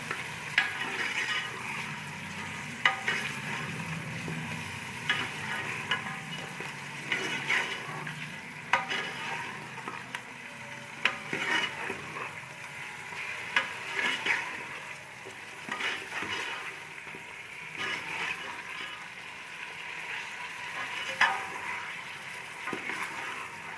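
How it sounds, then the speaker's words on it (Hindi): Steady sizzling of mutton frying in a hot pan, with a utensil stirring and scraping at irregular moments throughout. "गोश्त को हमने 2 से 3 मिनट भून लिया है"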